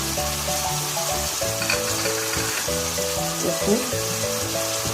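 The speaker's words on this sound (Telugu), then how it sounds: "టమాటాలు బాగా మిక్స్ చేసుకోవాలి." Tomatoes with turmeric being mixed in a frying pan, a steady sizzle with stirring clatter running beneath a voice speaking briefly, close and fairly loud throughout.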